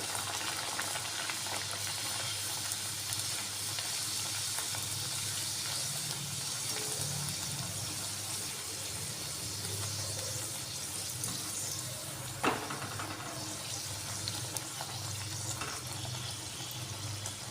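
Dal puri deep frying in a pan of hot oil, a steady close bubbling hiss filling the whole stretch with one sharp tap near the middle; no one talks.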